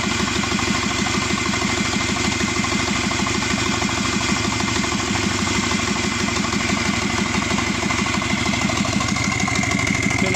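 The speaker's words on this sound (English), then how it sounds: "I'm just showing you the engine running." A Subaru EJ255 turbo engine from a Forester SG9 runs at idle, producing a steady, even, pulsing mechanical hum that continues unchanged throughout at close range.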